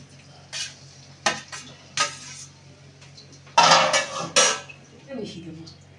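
Cooked rice is stirred into winter vegetables in a pan for vegetarian fried rice. A metal spatula scrapes and clanks in several sharp bursts over a soft background sizzle, close by.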